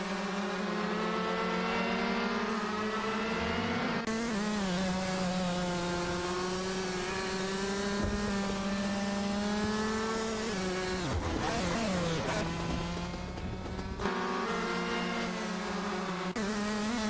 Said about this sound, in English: Bot Lisa Shibi has surged ahead to P2, successfully passing Bot Figure 8 Sport.